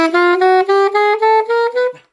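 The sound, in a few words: Eb instrument playing a note with alternate side C fingering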